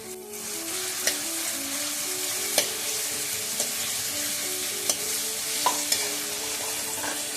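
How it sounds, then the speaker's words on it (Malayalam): Onion, green chili and ginger sauté in hot oil, a continuous sizzle under repeated stirring scrapes and occasional sharp clinks of a utensil against the pan, close up with no talking. "എണ്ണ ചൂടാകുമ്പോൾ നമുക്ക് സവോളയും പച്ചമുളകും ഇഞ്ചിയൊക്കെ വഴറ്റിയെടുക്കാം"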